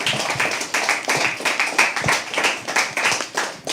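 Audience applause at a live poetry open mic, a steady run of fairly close hand claps with an uneven rhythm that keeps going without pause and with no talk over it.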